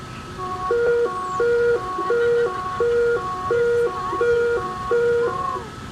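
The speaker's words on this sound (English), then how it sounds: "It's called high-low, and here's how it sounds." A police two-tone high-low siren alternates steadily between a high and a low pitch, about five cycles, loud and clear with no talking.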